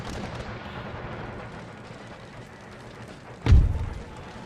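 Distant battlefield rumble from Empire Total War gives way to one loud, booming artillery shot near the end, its low thud rolling away, with no voices.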